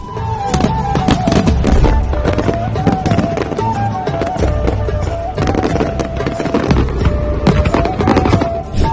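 Diwali firecrackers bursting in a rapid, continuous barrage of loud, close bangs and sharp crackles, with a sustained whistling tone running beneath the explosions.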